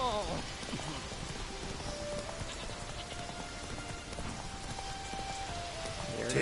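Roach the horse gallops through rain in The Witcher, hooves clip-clopping steadily over a constant patter of rainfall, with a voice talking over it.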